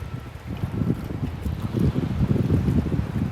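Morning wind at Boracay White Beach gusts into the microphone in rumbling, uneven bursts. Faint surf and boat activity sit underneath, with no talking.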